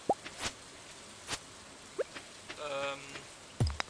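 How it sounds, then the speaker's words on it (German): Watering crops with a watering can in Stardew Valley, a short bubbly pouring splash around the middle among scattered game plops and drips, quiet and close, with no talking over it. "Ich gieße erst einmal."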